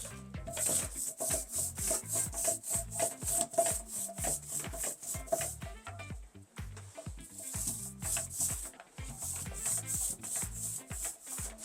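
A paint roller rolls back and forth over bathroom tile in a quick repeated rhythm of rubbing, tacky strokes, close and fairly quiet, pausing briefly midway before resuming, with no talking.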